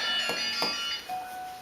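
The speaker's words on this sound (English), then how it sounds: "You hear my Ring doorbell in the background there." A Ring doorbell chime notification sounds from a phone in the background, with two soft bell-like tones followed by a steady sustained tone, fairly quiet and alone without talk.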